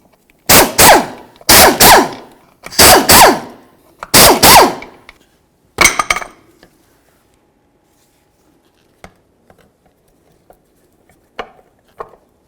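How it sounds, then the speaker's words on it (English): Four loud bursts of an impact tool, likely a pneumatic gun, removing the fan-to-clutch mounting bolts on a 1992–2000 Chevy Tahoe, each a short rattling buzz about a second apart, then a brief final burst and faint metallic clicks. "let's continue on by removing our 4 mounting bolts that hold the fan to the clutch"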